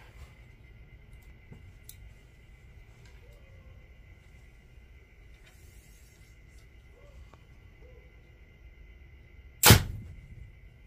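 An arrow shot from a bow through paper for tuning lands with one sharp, sudden thwack after a long stretch of quiet room tone, loud and very brief, alone without talk.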